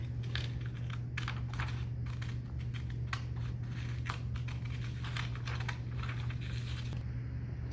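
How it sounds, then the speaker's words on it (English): Scissors cut white paper along drawn template lines, a steady series of crisp snips and rustles over a constant low hum, close up with no talking. "we're just going to cut along these lines"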